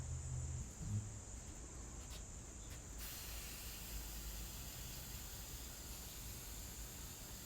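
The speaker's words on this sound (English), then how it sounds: "give them a spritz of aerosol hairspray" A brief quiet patch, then a continuous close aerosol hairspray spray hissing onto dried hydrangea flowers without a break until the end.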